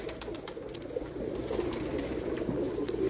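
Pigeons coo softly in a loft, low throaty calls repeating over faint background noise with no talking.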